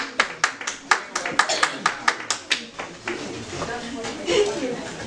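A church congregation claps for Jesus: a run of loud, rhythmic hand claps close by for about three seconds, then loosening into scattered crowd noise and murmur.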